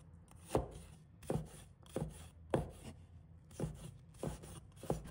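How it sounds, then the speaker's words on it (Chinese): A knife cuts a small piece of fresh ginger into thin strips on a board, seven crisp, evenly spaced chops about one per second, close and quiet with no talking. "一小块生姜，把它切成丝。"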